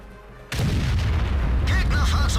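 A tank cannon fires in World of Tanks, one sudden heavy boom followed by a rolling rumble and the tank engine's drone, with faint whining effects near the end.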